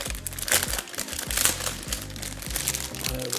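A small Disney Lorcana card binder is pulled open with a few crisp crinkling, rustling bursts close by, over steady background music.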